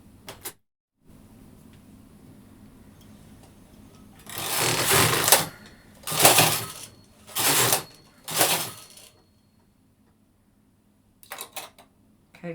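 A knitting machine carriage knitting rows for a Santa decoration, with four loud, rattling mechanical passes separated by short pauses and followed by a couple of quieter clicks near the end.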